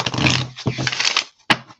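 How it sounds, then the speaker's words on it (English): A deck of playing cards is shuffled close up: a dense papery riffle fills about a second and a quarter, then a sharp snap as the cards settle, with no talking. "let's do one more little shuffle here."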